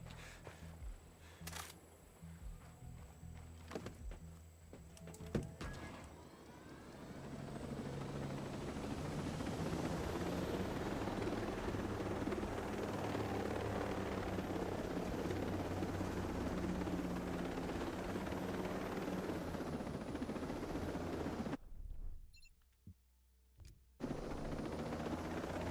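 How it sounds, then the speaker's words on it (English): A helicopter in the video game Ghost Recon Breakpoint spins up after scattered clicks and gunfire, then settles into a loud, steady rotor roar that cuts out briefly near the end. "Back to my chopper."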